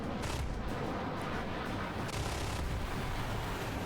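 Jet-fighter cannon fire in War Thunder comes as dense, continuous rattling bursts that fill the whole stretch at a loud, steady level, with no pauses and no talk.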